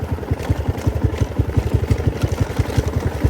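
A motorcycle engine idles in neutral, a steady close putter of rapid, even firing pulses with a slight mechanical clatter and no voices.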